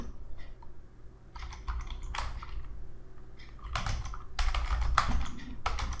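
Someone types on a computer keyboard while entering a credit card bill payment in net banking. Quiet, close key clicks come in irregular bursts separated by short pauses.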